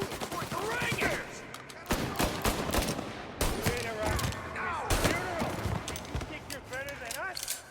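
Dense, sustained gunfire from the Mafia Definitive Edition video game, with rapid overlapping shots and heavy bursts from several weapons, under shouting voices throughout.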